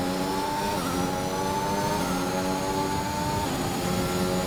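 A race car engine in a Japanese Grand Prix racing game accelerating out of a corner, a loud steady whine rising through the gears, close and continuous with no talk over it.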